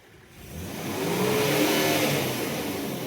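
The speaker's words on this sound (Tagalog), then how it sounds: "And then if you rev" A Nissan Patrol diesel engine with low power and white smoke revs up close, the engine note rising to a sustained loud roar that holds steady to the end.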